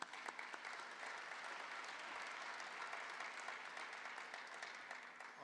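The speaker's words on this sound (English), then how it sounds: "Can you just give them a round of applause for Ian?" An audience at a business hall of fame gala breaks into sustained applause, a dense, even wash of clapping from a large crowd that holds steady throughout.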